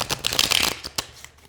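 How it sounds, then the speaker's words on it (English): A tarot card deck riffle-shuffled up close, a dense burst of flicking card snaps followed by a few softer shuffles that taper off. "And shuffling it this way is great too."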